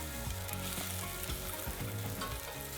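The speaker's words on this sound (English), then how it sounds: "Then add the onion, garlic and red chilli and fry for about 5 minutes." Onion, garlic and red chilli frying in olive oil over medium heat for butternut squash soup, a dense continuous sizzle and crackle, close and steady throughout.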